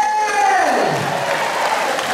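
Audience applause at a church event for elderly congregants in Jakarta, a dense steady wash of many hands clapping, fairly loud and continuous, with a faint tone fading underneath.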